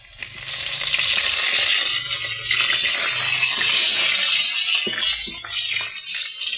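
Garlic and curry leaves sizzle and fry in a hot pan, a loud, steady crackling hiss that swells and eases slightly over several seconds, with no voices over it.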